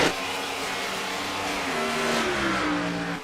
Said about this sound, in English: As we are hearing the car shifting between different gears.